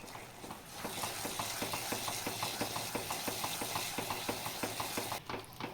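Rava kesari, a semolina sweet cooked in ghee, stirred in a pan with a spatula in a steady rhythmic scraping, repeated strokes roughly twice a second over a soft sizzle, close by, no speech.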